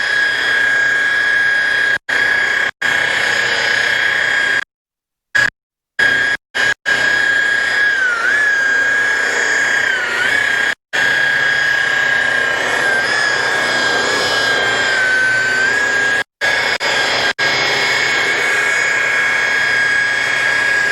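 High-speed spinning tool whining at a steady pitch while cleaning a Skeeter APEX boat, a loud continuous drone with a few brief cutouts near the start and scattered short dropouts later.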